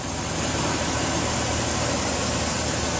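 A Dodge Ram Big Horn 4WD quad-cab pickup idles steadily, a smooth, constant engine hum with a broad hiss, recorded close with no variation or voices.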